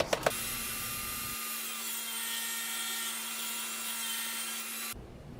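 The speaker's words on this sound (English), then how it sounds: "Setting the fence to 9 15/16 inches for the width and ripping the board down to size." A table saw rips a wooden board to width against the fence, a steady humming whine with the cut running for several seconds and ending abruptly, fairly quiet overall and with no voices.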